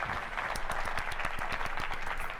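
Sustained crowd applause at a tech keynote, dense clapping from a large audience with individual claps standing out, loud and continuous with no talking.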